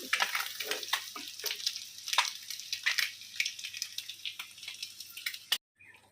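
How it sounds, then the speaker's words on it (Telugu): Prawns fry with turmeric in hot oil, making a soft, close sizzle that crackles with small irregular pops and then cuts off abruptly near the end. "అందులో కొంచెం పసుపు వేసి ఇలా ప్రాన్స్ని వేయించుకోవాలి"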